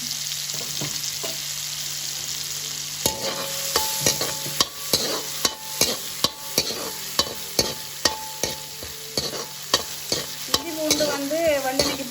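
Ginger garlic paste fries in hot oil for chicken kothu parotta, a sizzling bed under a rapid series of sharp metallic clanks and scrapes, with a rising bubbling hiss near the end.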